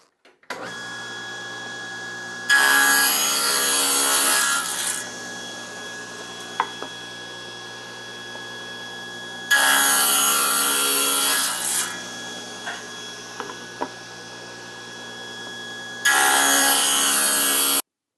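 A table saw fitted with a thin strip ripping jig rips narrow wooden strips in three loud, separate cuts, each a harsh roaring burst over the steady hum of the running blade, with quieter handling knocks between.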